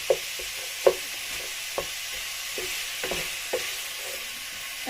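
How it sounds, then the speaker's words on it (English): Bolognese mince frying dry in a pan without oil, stirred with soft scraping strokes and occasional sharper clinks over a steady quiet sizzle, with no talking. "I'm gonna stir this. I'm gonna continue mixing this till it's nice and like brown color."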